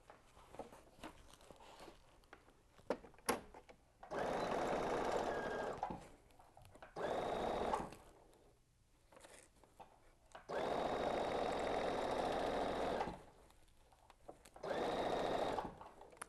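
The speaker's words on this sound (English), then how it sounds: "you're going to stitch all the way across using that 1/2 inch seam allowance." A sewing machine stitches a seam across fabric in several whirring bursts of a few seconds each, separated by quiet pauses with faint clicks and handling noise, heard close and alone.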